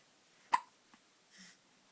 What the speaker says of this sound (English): Obviously didn't get rid of your hiccups though.